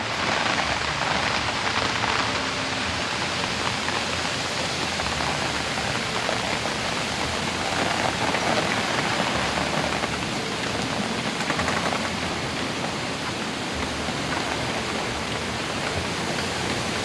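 Heavy rain falls without pause at a state park in summer, a loud broad hiss of drops on surfaces lasting throughout, with no voices.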